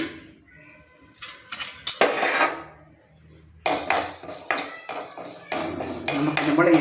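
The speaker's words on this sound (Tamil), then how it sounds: "இப்போ என்ன செய்கிறோம்னா, இந்த பருப்புகளை வறுத்து வச்சுக்கலாம்" Lentils roast in a pan with a little oil, heard as intermittent metal clinks and scraping stirs, with clusters of rattling and louder bursts of spoon-on-pan activity.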